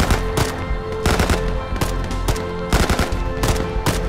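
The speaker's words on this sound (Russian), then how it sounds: "Куда вы там в темноту стреляете-то?" Rapid bursts of automatic gunfire and single shots in the military shooter ArmA 3, loud and close, firing in irregular clusters throughout with no talking.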